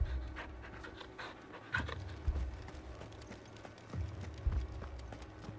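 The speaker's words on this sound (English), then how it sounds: "Pet the dog first." A dog panting in the video game Final Fantasy 16, quick rhythmic breaths repeating steadily and close up, with soft thumping footfalls and faint game ambience underneath.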